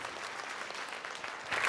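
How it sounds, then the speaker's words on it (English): An audience applauding a pair of women at a psychic medium's stage event, a brief even patter of clapping that swells slightly at the end. "Give them a round of applause"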